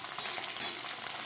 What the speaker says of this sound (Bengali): আদা কাঁচা লঙ্কাটা অনেকটা ভাজা হয়ে গেছে